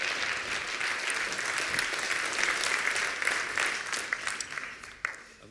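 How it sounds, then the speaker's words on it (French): Audience clapping for a speaker at the launch of a university entrepreneurship and innovation hub, a dense, even round of applause that holds steady and then tapers off near the end. "Je vous demande de l'applaudir, Jonathan Bory."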